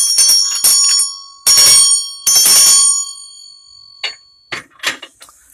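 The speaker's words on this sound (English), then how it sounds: "Sometimes called a singing bell, you can use them the same way you would do a singing bowl" A singing bell decorated with a Durga image rings in several sharp, bright strikes, each leaving a sustained shimmering tone, followed by a few quieter, shorter dings toward the end.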